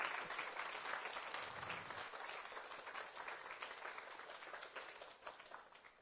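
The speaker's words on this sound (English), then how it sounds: "So we can all give him a big round of applause." Applause after a Carnatic music lecture, a fairly quiet room of listeners clapping steadily, thinning into a few scattered claps near the end.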